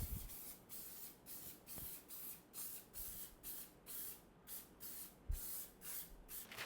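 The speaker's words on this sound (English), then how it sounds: "spray it with oil as well" An oil spray can hisses onto baking paper for homemade marshmallow in about a dozen short, quiet, evenly spaced bursts.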